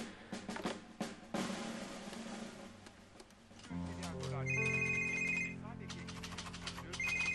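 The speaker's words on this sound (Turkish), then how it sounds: "Telefon." A telephone rings with a steady electronic trill while people talk over it, close and moderately loud.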